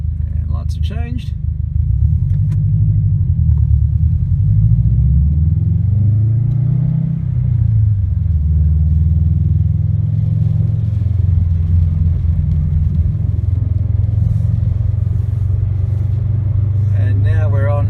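A 2017 Subaru WRX STI fitted with an Invidia R400 cat-back exhaust drones steadily at low pitch while cruising, its note rising and falling smoothly through gear changes, loud and close throughout.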